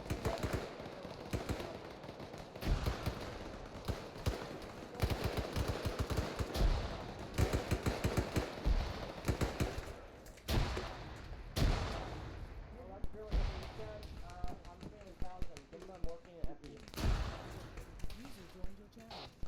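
Arma 3 battlefield gunfire crackles in scattered single shots, bursts and heavier booms, some near and some distant, with people talking over the radio between them.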